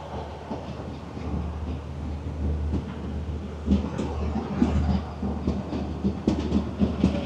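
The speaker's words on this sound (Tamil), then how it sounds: "ட்ரெயின் ஸ்டார்ட் பண்ணிட்டாங்க." A passenger train running from Colombo to Hikkaduwa rolls along with a steady rumble and rhythmic clickety-clack of wheels on rail joints, heard from on board with no talking.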